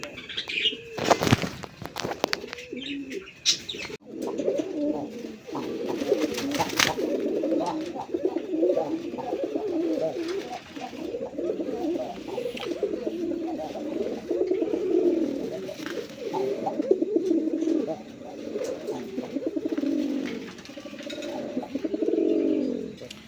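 Male pigeons coo in a continuous, overlapping chorus at a pigeon seller's loft, with a few sharp wing flaps and clatters near the start and occasional chirps over the steady rolling coos.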